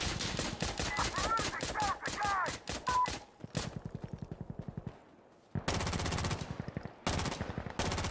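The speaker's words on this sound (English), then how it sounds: "They're literally shooting right through the wall." Rapid automatic gunfire in Insurgency Sandstorm, shots coming through a wall in close, loud bursts separated by brief pauses, with a voice speaking between them.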